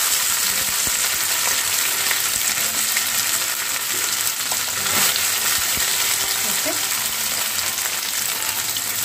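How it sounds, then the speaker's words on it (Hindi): Besan gatte pieces frying in hot oil in a kadai, a loud, even bubbling sizzle that holds throughout, with a few clinks and stirring knocks near the middle and no voices. "तेल गरम हो गया है, इसमें हम इस पीस को डालकर फ्राई कर लेंगे"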